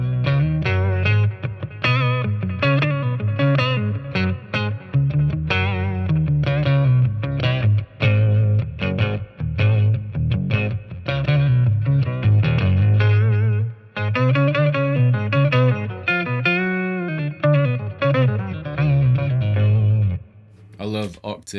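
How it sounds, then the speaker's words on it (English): Electric guitar played through a BOSS Katana MK2 amp with an octave effect, thick doubled low notes with a bright upper layer, steady busy phrasing with reverb and delay trailing, no talking. "throw on some octave."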